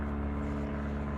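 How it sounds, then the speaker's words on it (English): An airplane flying overhead, a steady low droning engine hum with a broad rumbling wash, continuous and fairly loud for its short length, with no voices. "sorry for the airplane noise"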